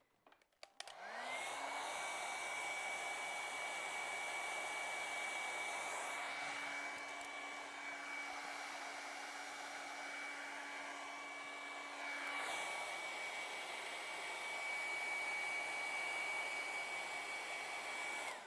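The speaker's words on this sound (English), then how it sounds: "Now we're gonna dry that and we can start putting the pine needles on." A hair dryer blows steadily for the whole stretch, loud and close, drying acrylic paint on a red Christmas ornament painting; the motor pitch shifts slightly midway and then settles again.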